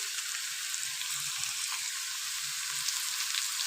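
Slit green chillies fry in a pan of frying fish, giving a steady, even sizzle of hot oil throughout with no talking.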